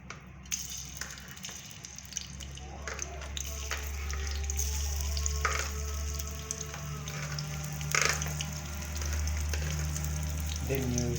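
Chopped tomatoes go into hot cooking oil for a carrot soup, producing a moderate, continuous sizzle with watery bubbling and occasional stirring scrapes close by.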